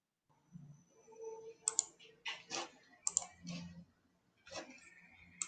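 Keys clack on a computer keyboard as a code is typed in short bursts of fast, light clicks separated by pauses. The sound is close and fairly quiet, with no speech.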